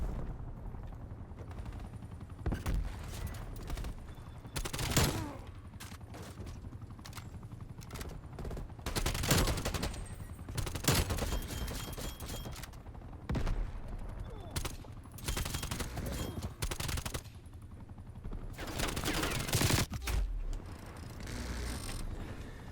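Rapid automatic gunfire in Black Ops Cold War multiplayer, several bursts of crackling shots over a constant background of game ambience and mechanical clatter, loud and close.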